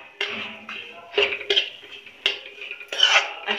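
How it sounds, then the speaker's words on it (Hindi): Semolina is roasted in ghee and stirred with a utensil. Separate metallic scrapes and taps against the pan come in an irregular rhythm, close by and fairly clear, with no talking. "अच्छी तरीके से इसे भून लेंगे। इसे हमें 3 मिनट तक अच्छी तरीके से भून लेना है, जब तक ये ब्राउन ना हो जाए।"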